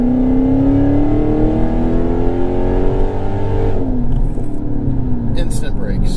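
A Dodge Hellcat accelerating hard, its engine note climbing steadily and loud before dropping off abruptly near the end, with a faint clatter afterward.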